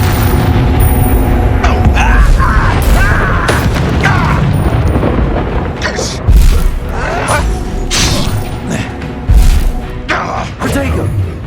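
A fire spell cast in the Hogwarts Legacy video game bursts out in loud booming thuds amid dense battle noise, with several heavy impacts spaced across the fight and voices speaking over the action.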